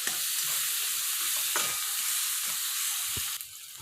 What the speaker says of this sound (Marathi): आता यात मटर मसाला टाका आणि तो हे व्यवस्थित परतून घ्या